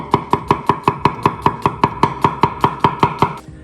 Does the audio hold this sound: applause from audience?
no